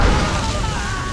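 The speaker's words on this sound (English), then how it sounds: "Cannon fire! Look!" A deep, rumbling blast of cannon fire from the video game Jade Empire rolls loud and close, with a low boom that fills the whole moment.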